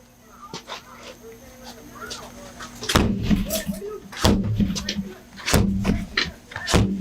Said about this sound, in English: We're going to break the door.